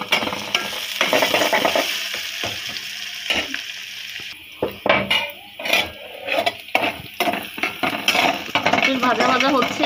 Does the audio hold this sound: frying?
yes